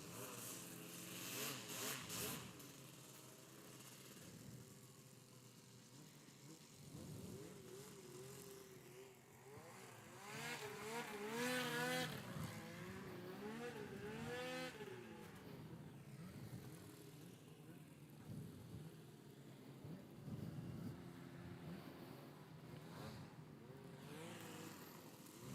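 The thrust engine of a racing hovercraft at a British club race meeting in July 2022 roars and buzzes with a wavering, revving pitch. It swells louder in the middle and carries on as an uneven drone for the whole stretch.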